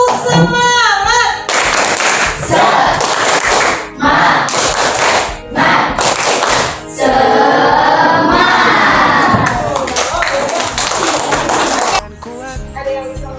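A class of children claps the rhythmic 'tepuk semangat' routine in loud, steady bursts of hand claps, shouting and chanting together as a lively group with a teacher nearby.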